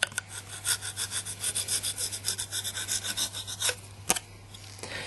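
A file is worked back and forth over a duck call reed in quick, rhythmic rasping strokes, close and steady, ending with a single sharp click.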